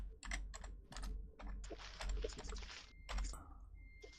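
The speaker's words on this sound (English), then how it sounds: "Can you hear me typing?" Steady typing on a computer keyboard, clusters of quick close clicks with brief pauses between bursts, fairly quiet and alone.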